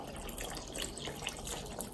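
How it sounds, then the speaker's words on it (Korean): Water pours and splashes into kimchi seasoning for a Korean water kimchi, a brief soft trickle and gush heard close but fairly quiet. "양념에다가 물을 부어 보겠습니다."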